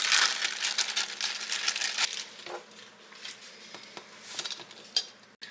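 About half a pound of sausage goes into a pan of gravy and gets stirred in, with close, irregular scrapes and clinks of a utensil against the pan and soft wet crumbling between strokes.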